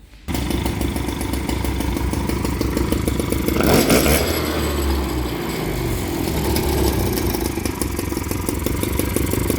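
A Motobecane Mobylette moped with an air-cooled cylinder kicks into life and runs, its small two-stroke engine buzzing loud and steady at close range, swelling briefly around the middle before settling back to an even putter.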